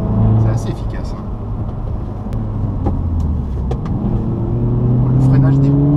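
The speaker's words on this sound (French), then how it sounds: "bruit à l'échappement grâce à une petite membrane qui est placée là au niveau du pare-brise" A new Audi S1 quattro is being driven, its engine and exhaust giving a steady low drone that rises slightly in pitch, heard from inside the cabin with voices present.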